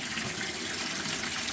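Water runs steadily from a tap while filling water pails for sheep on a farm during morning chores, a loud, continuous close gush with no pauses.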